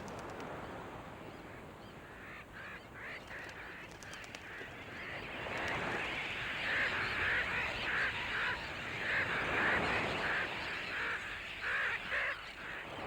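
A dense colony of seabirds at their nesting site on Raine Island, at the northern end of the Great Barrier Reef, keeps up a continuous chorus of overlapping honking, croaking calls that rises in intensity, with no voices.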